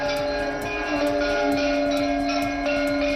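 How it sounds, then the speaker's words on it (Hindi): Bells ring out continuously in a Ram temple courtyard, with quick repeated metallic strikes layered over sustained ringing tones, loud and close, with no voices heard. "पूरा मंदिर परिसर घंटे, घड़ियालों, शंख की ध्वनि और जय श्री राम के नारों से गूंजता रहा"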